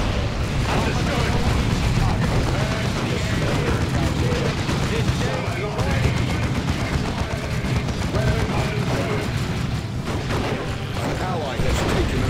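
Grenade blasts and heavy gunfire fill a Space Marine versus Tyranids battle in the video game Dawn of War 2, a dense, continuous roar of explosions and shots with voices shouting orders over the din.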